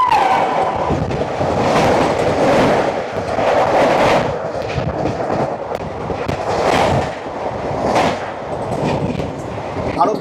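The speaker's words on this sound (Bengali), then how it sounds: "চলে আসছে ট্রেন নাম্বার 12504 আগরতলা থেকে SMBD বেঙ্গালুরু হামসাফার এক্সপ্রেস।" The Agartala to SMBT Bengaluru Humsafar Express, train 12504, rolls into a station with a loud, rumbling clatter of wagons and rhythmic wheel thumps, with voices in the background.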